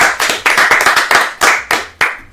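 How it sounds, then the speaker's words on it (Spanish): Rhythmic hand clapping, about nine sharp, loud claps at a steady beat with short gaps between them, and no voices. "Naye Rodríguez, felicidades, un aplauso."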